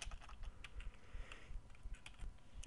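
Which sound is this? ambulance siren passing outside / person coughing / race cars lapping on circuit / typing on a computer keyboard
typing on a computer keyboard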